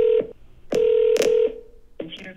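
A phone automatically places a call: loud, close electronic tones sound in short bursts, two longer steady tones in the middle, then a final short beep, with no talking.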